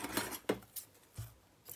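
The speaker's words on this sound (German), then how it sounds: "Ich mache jetzt ein Stück von diesem Band hier ab." Scissors snip through a piece of ribbon, a few quick close metallic cuts and rustles, faint and alone.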